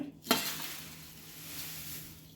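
Poha chivda being stirred and tossed in a pan, a sharp scrape near the start giving way to a steady, soft dry rustling that runs on at a close, moderate level.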